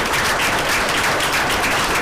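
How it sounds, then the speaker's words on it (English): Audience at a White County school board meeting applauding, a steady dense wash of clapping throughout. "I'd like to applaud him."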